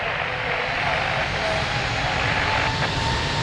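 An Airbus A321 rolling for departure at Lisbon Airport: a steady, loud broadband jet engine roar that holds constant throughout, with no voices.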